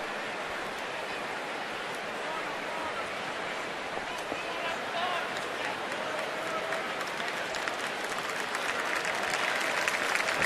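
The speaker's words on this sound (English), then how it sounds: "Applause gathering down there as the staff tends to her." Stadium crowd applauding at a Mets–Nationals baseball game as staff attend to an injured fan, a steady wash of clapping and crowd noise that swells slightly toward the end.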